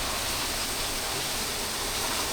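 A jungle waterfall roars as a steady, broadband rush of falling water, constant and even throughout with no breaks, moderately loud and heard alone without voices.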